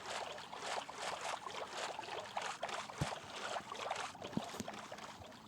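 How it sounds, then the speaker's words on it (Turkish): A boat moves across water in a modded survival video game, a steady broadband wash of water and motion with irregular splashy knocks and a few sharper hits, continuous and fairly close throughout. "Evet arkadaşlar su tekneyle gidelim karşıya doğru."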